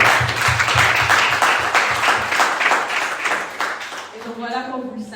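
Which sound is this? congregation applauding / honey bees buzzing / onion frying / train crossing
congregation applauding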